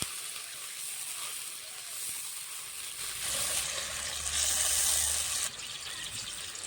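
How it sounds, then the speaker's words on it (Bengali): Water used to rinse the ground spices is poured into fish curry masala in a pan, and a hissing sizzle swells for a few seconds before easing back to a gentle simmer as the mix is stirred, with no voices. "এবার দিয়ে দেবো মশলা ধোয়া জল এবার ভালো করে নেড়ে নেবো"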